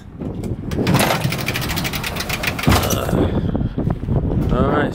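A lawnmower engine drones loudly and steadily up close for the whole stretch, with a rough pulsing rumble and a couple of knocks.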